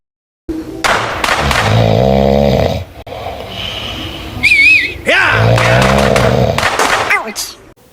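A cartoon Numberblocks character snores, with deep rattling inhales and whistling exhales in a slow, loud rhythm, close up and over a short gap.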